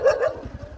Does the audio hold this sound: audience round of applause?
no